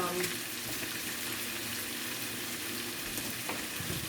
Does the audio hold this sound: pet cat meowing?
no